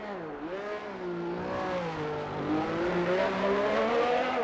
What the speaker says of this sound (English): Dylan is getting his tyres warmed up